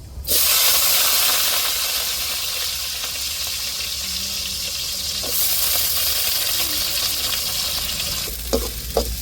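Sliced onions sauté in hot oil in a pan, giving a loud, steady, close sizzle with a few clinks of stirring near the end.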